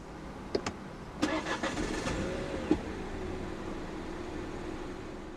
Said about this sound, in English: press the start button to the left of the steering wheel